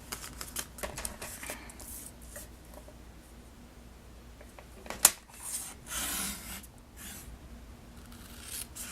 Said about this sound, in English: let's go ahead and take and cut those into those strips